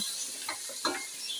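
Ginger garlic paste stirred into browning onions for a masala fish curry, a steady hiss of frying with a couple of soft stirring scrapes, close and fairly quiet.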